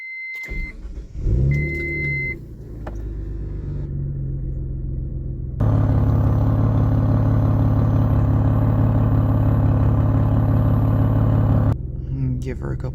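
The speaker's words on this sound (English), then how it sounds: "Here's how it sounds on startup." Mitsubishi 3000GT VR-4 engine starting: starter chirps and beeps, then a settling idle that swells into a loud, steady rumbling idle lasting several seconds before dropping off.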